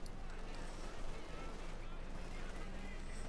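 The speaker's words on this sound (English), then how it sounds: "taking fire from the Panzer IV, the MD-42" Gunfire and cannon rounds from a Panzer IV tank in the strategy game Company of Heroes 2, a dense, steady wash of distant battle noise with continuous combat rumble and no clear individual shots standing out.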